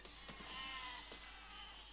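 Sheep bleating in the physics-building game Besiege, a couple of close, wavering bleats over a steady game background with no talk.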